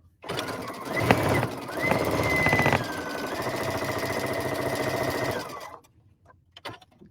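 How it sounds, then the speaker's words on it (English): A sewing machine stitches a Halloween fabric border, running steadily for about five seconds with a fast, even mechanical whir and rattle before stopping, followed by a few faint handling clicks. "And now I'm going to stitch it."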